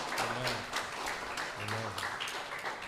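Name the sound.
applause in church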